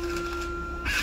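A RING 412PEI+ label printer printing and cutting fabric labels gives off a steady mechanical whine, closing with a brief, louder burst at the very end.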